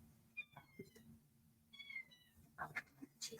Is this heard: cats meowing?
yes